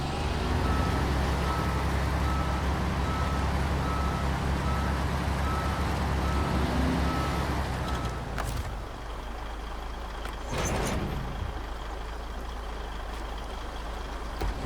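Freightliner truck in a video game, a steady low diesel engine rumble with an electronic reversing beep repeating over it, then the engine settling with a couple of brief hissing bursts like air brakes.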